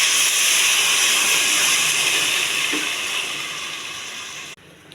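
A glass of water hits a pan of frying ivy gourd, setting off a loud, continuous steamy hiss that gradually eases and then drops off abruptly near the end.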